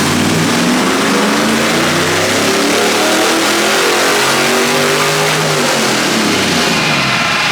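A Monster Manx dune buggy fresh from the Glamis dunes, engine revving hard on a dyno: loud, close, sustained roaring with pitch sweeping up and down through repeated pulls.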